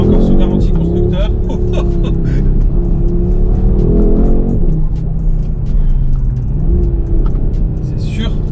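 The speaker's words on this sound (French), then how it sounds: "vous avez la sonorité d'origine du 5 cylindres" An Audi RS3-R tuned by ABT, its stock five-cylinder engine with only exhaust tips changed, rumbling and revving up through rising and falling pitch sweeps, loud and close with no talk.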